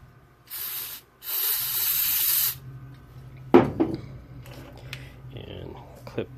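Spray squirted onto a part of a salvaged, long-dead camper van: a short hiss, then a longer sustained hiss close by, followed by a few scattered metallic clicks and clatter.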